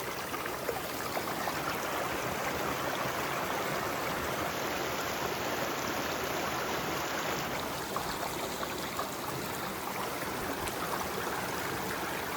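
Steady broadband rush of a stream flowing along the Appalachian Trail, constant and close with no pauses, no voices over it.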